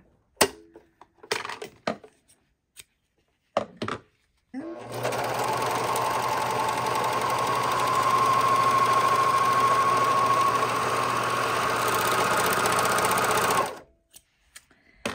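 A serger overlock sewing machine runs steadily for about nine seconds, stitching seams with a close, even mechanical hum after a few scattered handling clicks, then stops abruptly.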